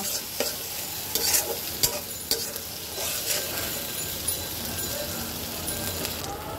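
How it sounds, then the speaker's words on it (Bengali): Ginger paste and spices stir-fry in a pan for a mutton curry, giving a low continuous sizzle broken by scraping stirs and occasional light clinks of the utensil against the pot. "এইবার সবকিছু একসাথে সুন্দর করে কষাবো।"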